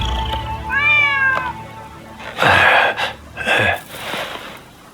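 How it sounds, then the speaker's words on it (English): A stray cat meows in the samurai action game Rise of the Ronin: a rising, wavering cry near the start, then two louder, strained yowls later, with no voices over it. "Who'd have thought the stray cat would wander in?"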